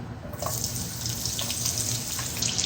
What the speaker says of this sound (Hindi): तेल गरम हो गया। अब इसमें डाल देंगे प्याज।